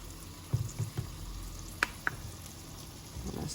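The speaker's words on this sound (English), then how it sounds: "Get a nice sear on the bottom of it." A pot roast seasoned with garlic salt searing in a pan: a low, steady sizzle with a few soft bumps and two sharp clicks from the pan or utensil, quiet and close.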